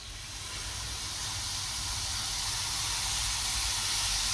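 Lamb meat for doner hits hot, spiced oil in a pan and sizzles with a loud, steady hiss that builds slightly and holds, with no talk.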